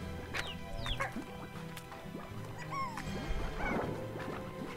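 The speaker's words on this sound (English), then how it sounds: "Chicken" Chicken clucking in the Slime Rancher video game: a few short, bright clucks and squawks scattered over a busy, steady game soundscape with other animal-like calls mixed in.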